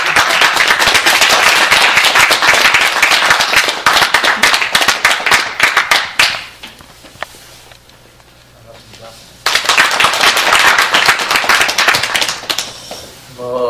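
An audience claps loudly and steadily to welcome a speaker at a Korean civic network's founding assembly. Applause lasts about six seconds, quiets to a low murmur, then rises again just as strongly.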